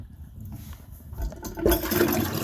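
An American Standard Champion toilet with a leaking flush valve seal is flushed to drain its tank: a faint trickle at first, then a loud, close rush of water that keeps going to the end.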